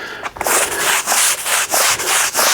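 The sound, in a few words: scrubbing brush scrubbing a wet rug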